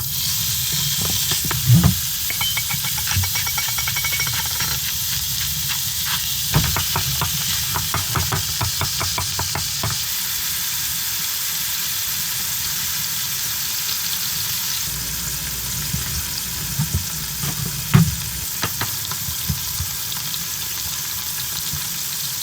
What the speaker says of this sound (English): The first thing we're going to do is cook our ground beef.